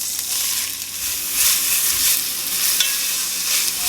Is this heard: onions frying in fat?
yes